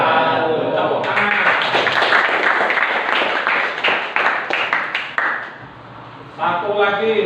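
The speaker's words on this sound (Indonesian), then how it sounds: "Tepuk tangan." Audience clapping in a classroom or lecture hall after a presentation, dense and sustained for several seconds before fading, with voices talking underneath and resuming at the end.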